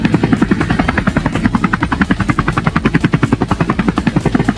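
Helicopter flying in the video game Scarfall 2.0, its rotor chopping in a steady, rapid rhythm that stays loud and close throughout, with no talk over it.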